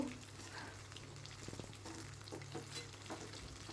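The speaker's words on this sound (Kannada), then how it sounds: "ಇದನ್ನು ಎಣ್ಣೆಯಲ್ಲಿ ಡೀಪ್ ಫ್ರೈ ಮಾಡಬೇಕು" Palak gobi pieces deep fry in oil, giving a soft, continuous bubbling sizzle with a few light stirring clatters, quiet and close, no talking.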